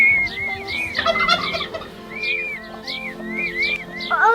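Peafowl chicks peep and trill with thin, high, repeated whistling calls, up close alongside a broody chicken hen, with some lower clucking mixed in throughout.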